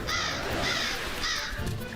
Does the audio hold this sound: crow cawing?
yes